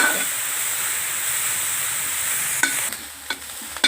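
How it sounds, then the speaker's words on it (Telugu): Gobi paratha filling of cauliflower fries in a pan with a steady loud sizzle, a spoon stirring it through with a few sharp scrapes and knocks near the end. "కొంచెం వేపేద్దాం మరి ఎక్కువగా వేయించేయట్లేదు"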